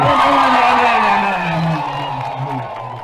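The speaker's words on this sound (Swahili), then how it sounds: "Hebu shangilia makofi mazuri hapo." A large crowd at a Christian church gathering cheers and whoops loudly, with a sustained roar of voices and some clapping that slowly eases off.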